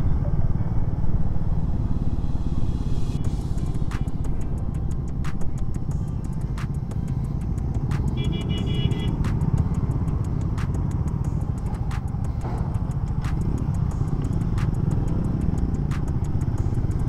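Slow road traffic during a long-distance motorcycle ride past roadworks, with a steady heavy engine rumble and road noise, plus repeated faint ticking.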